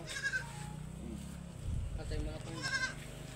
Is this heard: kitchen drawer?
no